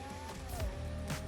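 Ferrari engine revving hard off the line at the start of a drag race in The Crew Motorfest, near and loud, with a rising then shifting engine tone over about a second.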